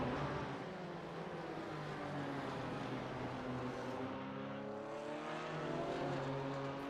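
GT4 BMW and Porsche race cars in a sim racing game at Mid-Ohio, engines droning and rising in pitch as they accelerate down the straight, with overlapping engine notes.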